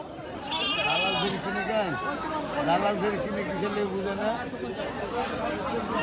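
Goats bleat repeatedly at a busy goat market in Rustampur, Rajshahi, with several wavering calls rising over loud crowd chatter and people talking close by.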